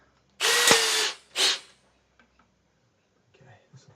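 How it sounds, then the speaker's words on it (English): A long power drill bores into a Telecaster-style guitar body in two short loud whirring bursts, followed by quiet clicks and handling noises. "Might grab the big long drill"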